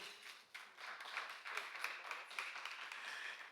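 A church congregation applauding during a Sunday service, a faint, dense patter of many hands clapping together, steady for a few seconds and sounding somewhat distant.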